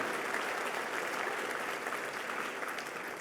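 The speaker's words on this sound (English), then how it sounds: "Let's have a round of applause for the Freedom Run." Dinner audience applauding for the Freedom Run: dense, steady clapping from a large crowd, fairly distant and even throughout.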